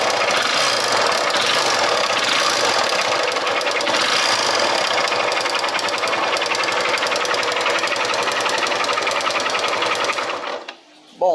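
A Honda Titan 150 cc motorcycle engine with an abnormal mechanical noise, revved in a workshop: a dense, rapid clattering roar runs loudly and steadily for about ten seconds, then drops away abruptly.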